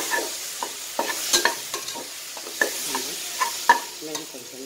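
Masala fries and gets stirred in a pan for tomato rice, with repeated scraping stirs and a soft sizzle, close and fairly quiet, no talking.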